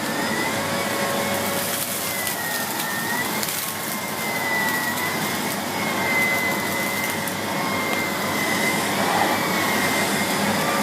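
A Miele CX1 Blizzard Comfort Powerline canister vacuum cleaner from 2017 runs steadily with a loud, even whooshing whine and airflow roar that shifts slightly in pitch, with no voices.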